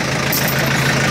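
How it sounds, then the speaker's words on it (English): A tractor engine idles steadily with a low, even chugging rumble, close and loud, with no one speaking. "So I just drive the tractor as normal"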